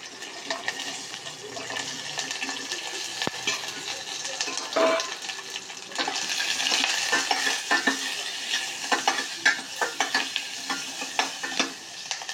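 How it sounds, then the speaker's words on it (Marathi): Continuous sizzling and crackling of small onions frying in hot oil tempering with curry leaves, with scattered stirring scrapes and pops throughout. "आता आपल्याला फोडणीत घालायचे आहेत छोटे कांदे"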